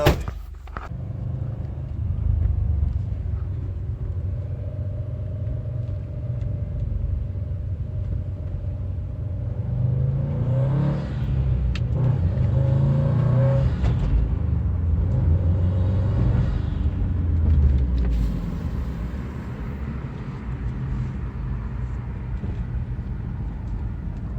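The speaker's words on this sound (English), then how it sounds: "so this is known as the what do they call it, waste gauge sound from turbos" Turbo wastegate whoosh and flutter from a Subaru WRX STI over a steady, close engine rumble, swelling for several seconds in the middle of the drive before settling back to a low drone.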